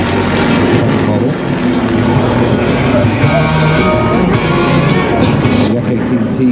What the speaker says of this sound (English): In now is the Yak 18, as I said.